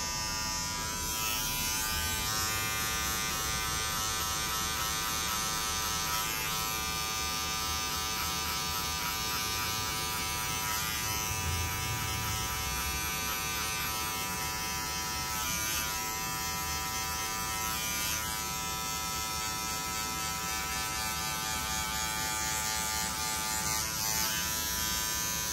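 An electric hair clipper buzzes continuously at close range while cutting a skin fade, its steady whine shifting slightly as it moves over the head, with no talking.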